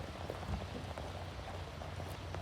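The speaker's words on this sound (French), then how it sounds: "il pleut" Faint, steady rain patters on a surface at Sainte-Mère-Église, with scattered drips and a low background rumble, no voices.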